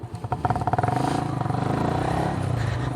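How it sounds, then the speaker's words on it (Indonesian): An old, modified Yamaha Vixion motorcycle accelerates, its engine rising through a rapid pulsing putter and holding a steady, loud drone near the listener. "Ini motor tua tapi masih enak aja tarikannya ini."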